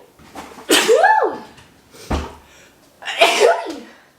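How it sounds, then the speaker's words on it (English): Two loud, close sneezes, each with a sharp inhaled build-up and explosive release, separated by a brief thump. "I don't know why I'm suddenly sneezing."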